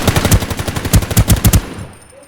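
Gunfire in the shooter game Ring of Elysium, a quick automatic burst of a dozen or so sharp shots in steady rhythm, loud and close, then a short fading tail.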